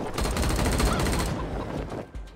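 A dense, loud burst of automatic gunfire erupts in a combat encounter in the post-apocalyptic game Wasteland 3, a rapid volley that fades into a few trailing shots.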